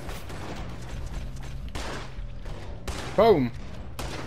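Gunfire in the video game Red Dead Redemption 2 cracks in several scattered shots among game ambience and a brief tonal cue, with a person speaking over it.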